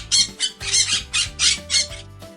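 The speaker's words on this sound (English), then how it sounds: "It's a parrot." A parrot squawks repeatedly in a rhythmic series of six or seven harsh, loud calls, close and without voices.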